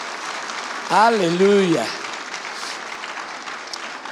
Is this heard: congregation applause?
yes